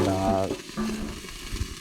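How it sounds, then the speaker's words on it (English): Steady sizzling and crackling of two burgers frying on a campground grill, fairly close, with a brief tonal hum at the start and a low clatter underneath. "Smoke is a good sign. And sizzling."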